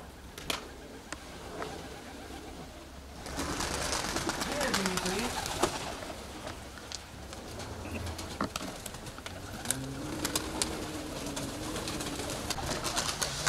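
Pigeons coo softly at a 2014 show-pigeon gathering in Skydra, Greece, with low repeated calls rising from a busy outdoor background while people talk nearby.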